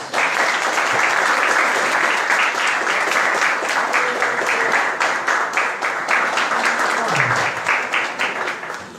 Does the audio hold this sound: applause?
yes